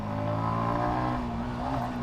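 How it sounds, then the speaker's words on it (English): An XSR motorcycle engine revs close by in a steady, sustained drone with a strong harmonic growl and no voices over it. "I love the way this bike revs"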